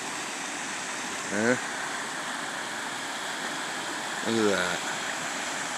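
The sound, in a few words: waterfall in Maine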